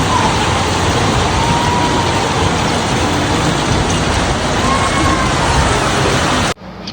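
Heavy rain pours in a loud, dense, continuous roar, ending abruptly near the close; first rain of the season in Banasree, Dhaka.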